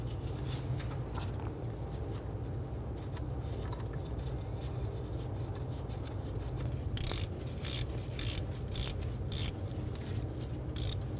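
Ratchet tightening the bracket nuts on a 2007-2014 Cadillac Escalade 6.2L V8 during a power steering pressure hose replacement, a few short bursts of metallic clicking near the end over a steady low workshop hum.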